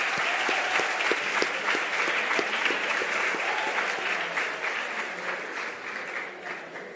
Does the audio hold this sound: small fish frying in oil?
no